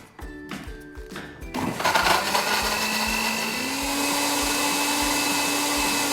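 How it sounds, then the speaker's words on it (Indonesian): A kitchen blender grinds shallots and garlic with a little water, starting with a few clattering pulses before settling into a loud, steady high-pitched whir as the motor runs continuously up close. "Sekarang kita langsung blender aja ya, bawang merah sama bawang putihnya ya. Kita blender, kita tambah sedikit air ya."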